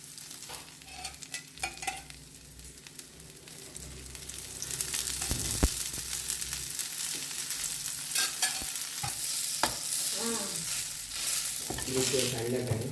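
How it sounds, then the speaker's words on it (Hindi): Alu vadi frying in a pan until crispy, a steady close sizzle of hot oil that grows louder midway, with occasional clicks and scrapes of a spatula and no talking. "क्रिस्पी होने तक हमें इसे फ्राई करना है।"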